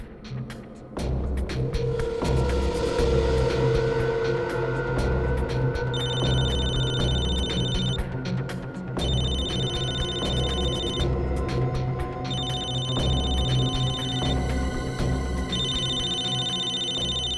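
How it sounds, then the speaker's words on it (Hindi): An incoming call rings on a mobile phone, a bright electronic tone repeating in regular bursts of about two seconds with short gaps, loud over steady background music and ambient noise. "दया इसके मोबाइल पे क्यों फोन कर रहा है?"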